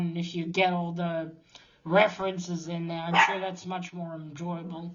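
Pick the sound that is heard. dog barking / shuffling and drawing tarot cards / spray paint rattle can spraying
dog barking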